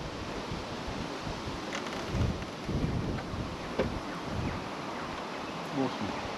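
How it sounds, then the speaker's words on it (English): Breezy wind rushes through treetops beside a creek at a camping spot in Coopernook, New South Wales, a continuous roaring wash with occasional stronger gusts and buffeting against the microphone. "Bit breezy. Not too bad, but you can hear it in the treetops."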